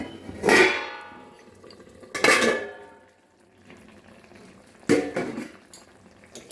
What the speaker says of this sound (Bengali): এবারে আমি জল দিয়ে দেবো এবার একটা ঢাকা দিয়ে দেবো